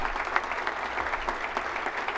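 An audience applauding students at a community event, steady dense clapping from a crowd in a hall, loud and continuous throughout.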